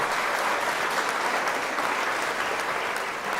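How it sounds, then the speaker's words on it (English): Audience applause at a fleet transport awards ceremony as a presenter comes on stage, a loud, sustained burst of many people clapping that holds evenly throughout. "Give a nice round of applause, ladies and gentlemen."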